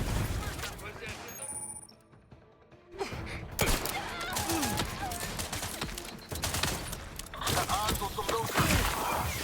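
Enemy gunfire in the video game The Outer Worlds 2, bursts of shots rattling through a busy game mix, with a brief quiet lull early on before the firing resumes and continues under intermittent voices.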